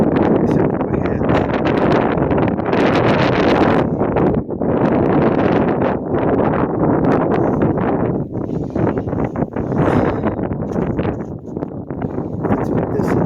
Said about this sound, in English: The wind is blowing strong.